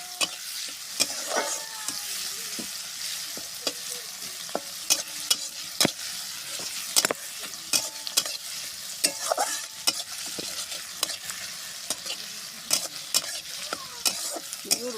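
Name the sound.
onions frying in oil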